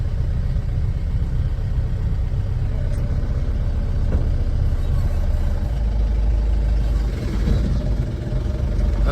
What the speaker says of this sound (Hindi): आज इतना ट्रैफिक क्यों है भाई?